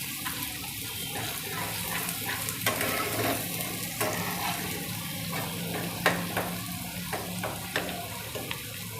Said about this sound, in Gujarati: જે ચેને આમ હલાવતું રહેવાનું એટલે બધી બાજુથી સરસ શેકાઈ જાય